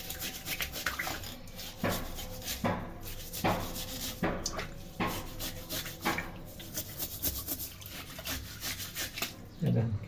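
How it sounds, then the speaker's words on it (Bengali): Fish scales being scrubbed off a tilapia with a kitchen scrubber: close, uneven rasping strokes repeating in bursts, with a little talk in the background. "এই যে দেখেন মাজনি দিয়ে সুন্দর করে ঘষে নেবেন।"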